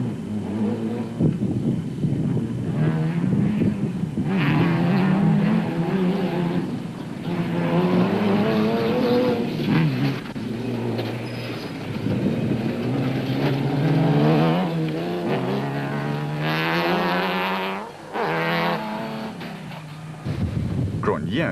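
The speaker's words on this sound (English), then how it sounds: "The 2 Nissans were shadowing each other every step of the way, in the first 2 places and trading blows." Two Nissan rally cars race off-road in the 2006 African Heritage rally, engines revving and surging continuously at close range while a voice talks over the roar.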